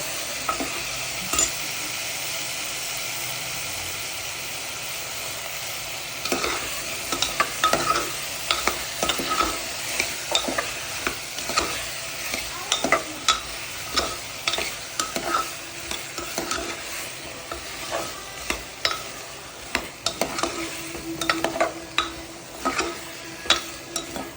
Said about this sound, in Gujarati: હવે આપણે બટાકા નાખી દઈએ. બટાકા નાખી દઈએ.